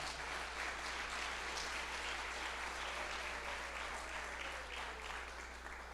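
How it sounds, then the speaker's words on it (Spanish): Faint church congregation applause during a sermon, a quiet, steady wash of clapping over a low constant hum, heard from a distance. "Dale un aplauso al Señor si se la quieres dar."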